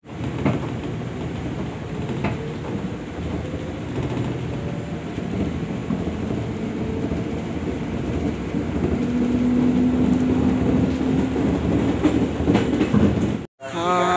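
A commuter train running between Cikarang and Telaga Murni rumbles through a station with steady rolling clatter, growing louder near the end with a brief wheel squeal before cutting off abruptly.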